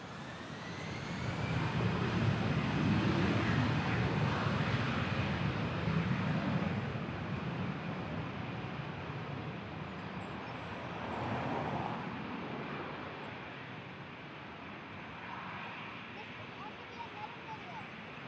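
Jet airliners at Toronto Pearson airport make a broad, steady roar that swells early and fades slowly, overlaid by a rising whine. Faint radio chatter comes and goes beneath it.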